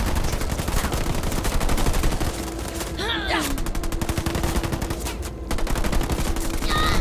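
Continuous rattling gunfire in Halo Wars 2 combat, dense rapid bursts running throughout, with voices speaking over the shooting.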